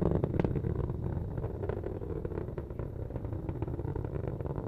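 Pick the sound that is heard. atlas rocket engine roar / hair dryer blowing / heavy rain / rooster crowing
atlas rocket engine roar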